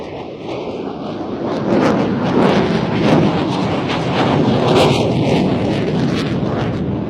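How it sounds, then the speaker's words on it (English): An F-16 fighter jet pulling a hard 360-degree turn during an air display, a loud continuous roaring rumble of jet engine noise with a swelling, tearing quality throughout. "the F-16 enters another 360, really pulling hard to complete this turn"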